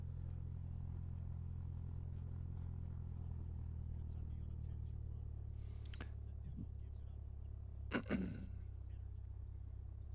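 Low, steady engine drone of an aircraft starting up in a flight simulator game, continuous and moderately loud, with a couple of brief clicks and clatters near the end.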